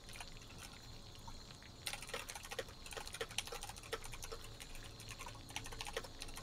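A keyboard being typed on: after a brief lull, a burst of quick, uneven key clicks runs on at moderate volume over a faint steady background.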